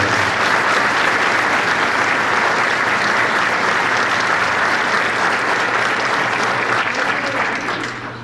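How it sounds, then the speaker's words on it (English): Sustained applause fills a hall at a U.S. Border Patrol academy graduation ceremony, dense and loud clapping from a large audience that holds steady before tapering slightly at the end. "please give the special guest of 1179 a round of applause"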